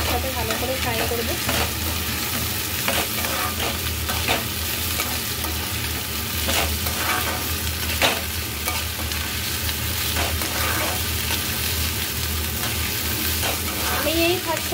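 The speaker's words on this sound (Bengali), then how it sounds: "এরপর আলুগুলোকে আমি একসাথে ভালো করে ফ্রাই করবো" Potatoes frying in a pan, a loud continuous sizzle with faint stirring clacks running through it from start to finish, close and unbroken, with no talking.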